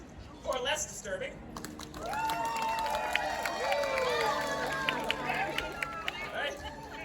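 A live crowd at a sword swallowing show applauds to vote for the less disturbing option, with steady clapping and scattered whoops and cheers building after a quieter start and holding fairly loud throughout.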